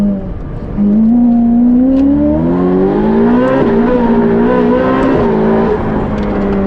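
A 1980s Ferrari engine revving while driving on a road, loud and close, its tone climbing steadily as it accelerates through the gears, with brief dips between rises.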